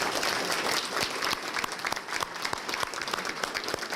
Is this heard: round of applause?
yes